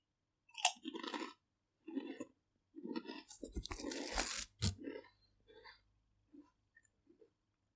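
Walkers Max Strong jalapeño and cheese crisps are eaten up close, with loud crunching bites followed by chewing in short bursts, while a person talks between mouthfuls.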